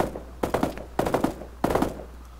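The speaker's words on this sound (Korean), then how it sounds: "뭔 총 쏘는 거야 이거?" Bursts of automatic gunfire from Arma 3 during a cooperative airfield attack, three rapid volleys of several shots each, loud and close with no talk over them.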